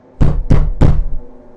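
Three firm, evenly spaced knocks thud against a sealed door in a VRChat horror world, loud and close with a short resonant tail.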